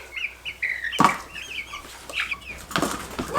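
Chickens cluck close by in short, uneven bursts, with a loud flurry of flapping wings around the one-second mark and another toward the end.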